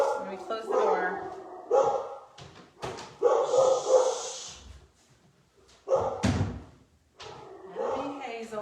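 A dog barks and whimpers in a house while someone crafts a multi-layered wood squirrel and acorn, with intermittent yelps and barks behind a closed door mixed with household noise.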